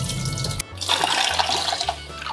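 Water used for washing rice being poured out, a brief splashing gush of liquid that cuts off and resumes as a steady close pouring stream, with no talking.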